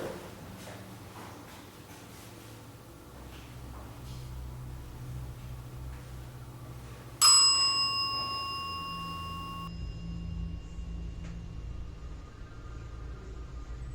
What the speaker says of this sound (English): Is that you that rang the bell?